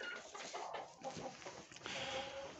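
Chickens cluck and chatter continuously at close range in a chicken house in Karaganda, a busy, steady flock sound with no talking.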